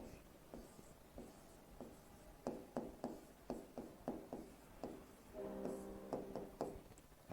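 Chalk or marker on a board during a physics class, tapping and scraping in a steady rhythm of short strokes, faint and close, with no talking.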